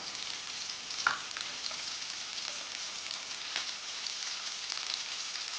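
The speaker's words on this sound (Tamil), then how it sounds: "நல்லா சேர்த்து வதக்கிக்கோங்க." Carrot, capsicum and cabbage sauté in a pan for vegetable noodles, giving a soft, continuous sizzling hiss with a few faint clicks of stirring and no voices.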